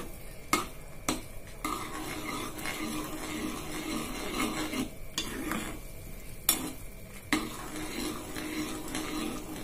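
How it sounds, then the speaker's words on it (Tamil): Puli inji, a tamarind-ginger relish, stirred steadily in a pan, with a spoon scraping and clinking against the metal under a soft sizzle. Sharp knocks recur every second or so, close and fairly quiet. "நல்லா பெருசில் வச்சுட்டு கிளறிண்டே இருக்கணும்."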